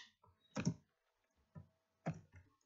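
Keys on a computer keyboard are struck while a QBasic calculator program is written, a few separate close clicks and taps with gaps of silence between them.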